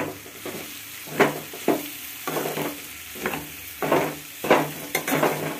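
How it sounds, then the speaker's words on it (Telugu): Cooked rice being tossed and mixed in a frying pan for mango pulihora, a spoon scraping in repeated rhythmic strokes over a steady low sizzle, close and moderately loud. "బాగా కలుపుకుందాం."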